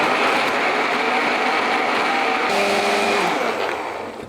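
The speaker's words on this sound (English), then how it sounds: "Okay, so that's our onion paste blended." An electric blender whirs loudly and continuously as it purees onions into a paste, its motor pitch shifting slightly partway through before the sound winds down at the end.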